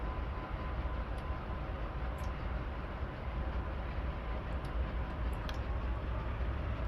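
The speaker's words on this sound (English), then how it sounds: "we're going to put the train into reverse" A Dash 8 locomotive rolls in reverse during rail yard work, making a steady, fairly faint broadband rumble with occasional light high squeaks and no talking.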